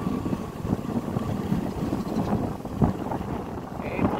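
Constant rushing wind buffeting the microphone outdoors at the Megadike, with a low rumble underneath and no clear speech.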